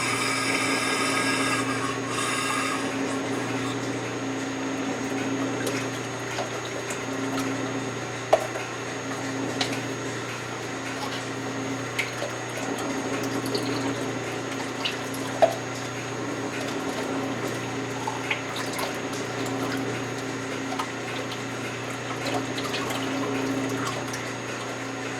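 A suction pump drawing air and oil on an Everclean system fitted to a Frantom rock saw, running as a steady low hum with a watery, bubbling hiss and a few small clicks and knocks throughout.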